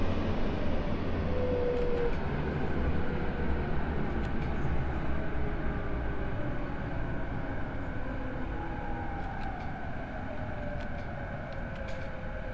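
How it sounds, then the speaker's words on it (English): A passing train in the JR East Train Simulator game roars as a loud, steady rumble with a sustained whine, filling the whole stretch without letting up. "See, like the noise on the passing trains and stuff like that,"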